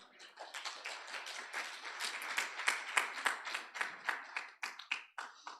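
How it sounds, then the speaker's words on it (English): An audience at a university symposium applauds with steady, dense clapping, moderately distant and fairly soft, swelling briefly before thinning into scattered claps. "Another loud applause for her."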